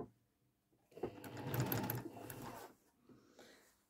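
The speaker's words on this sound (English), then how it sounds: "So I'm going to flip this on and sew the other side." A sewing machine stitches a quilt seam in a quiet room, starting up after a pause and running in a fast, close, rhythmic whir for about two seconds before slowing and stopping.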